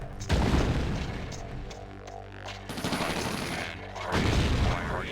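Buildings blow up in the real-time strategy game Tiberian Sun, heavy booming blasts with crackling bursts that swell, fade briefly around the midpoint, then surge again, loud and dense.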